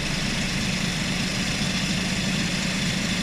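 A DA64W Suzuki Every Wagon's aircon compressor kicks back in over the engine's idle, forming a steady, even low hum and drone that runs unbroken throughout.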